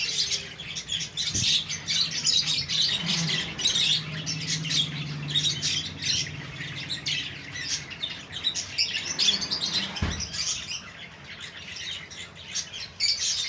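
Pigeons at a pigeon market in Karachi coo, flutter and squawk continuously, a dense busy mix of bird calls with occasional clatters and no talking.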